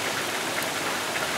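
Hard rain pours down on a flooded vegetable garden with tomato plants standing in water, a dense, continuous hiss with no voices.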